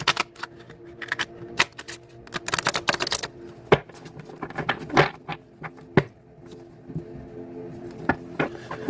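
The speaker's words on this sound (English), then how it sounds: "But I am going to shuffle, just so you know I've shuffled the deck." A deck of cards is shuffled close by, giving bursts of quick riffling patter and sharp snaps that come irregularly over several seconds, with quieter gaps between them.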